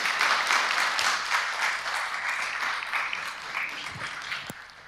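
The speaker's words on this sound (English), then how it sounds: "A round of applause, please." Audience applause at a tech presentation, a dense, steady wash of clapping that stays fairly even and slowly thins toward the end, with a few sharper individual claps standing out.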